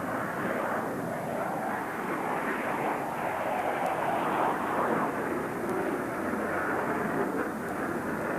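A Dassault Rafale fighter jet prototype flies at an air show, a continuous loud roaring jet rumble that holds steady throughout.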